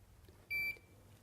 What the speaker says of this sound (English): Each beep will take it up a minute to 7 minutes